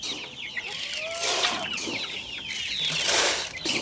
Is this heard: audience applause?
no